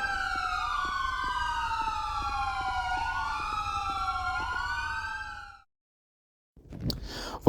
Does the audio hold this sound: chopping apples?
no